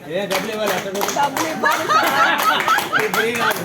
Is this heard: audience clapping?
yes